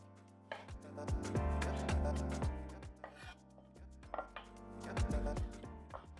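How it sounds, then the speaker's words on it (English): A knife works through tomato medleys, cutting them in halves with a series of quick, close taps on the board over a low humming background, with a few faint clinks. "Cut these tomato medleys into halves"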